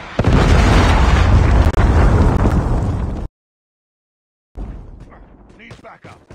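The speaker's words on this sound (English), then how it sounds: "Friendly Predator missile inbound." A Predator missile strike in the Call of Duty Mobile video game erupts as a loud, sustained, rumbling explosion for about three seconds, cuts to silence, then returns as fainter crackling debris and scattered pops.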